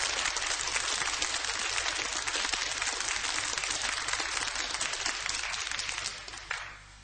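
Jazz concert audience in Kampen, the Netherlands, applauds a drummer, a loud, dense wash of clapping that holds steady, then fades near the end.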